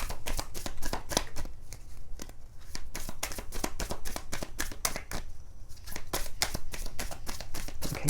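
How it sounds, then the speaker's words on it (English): Tarot cards are shuffled by hand nearby in rapid, repeated riffling bursts of crisp flicks and slaps, with short pauses between runs and no talking. "two more shuffles and I will pull two from the top"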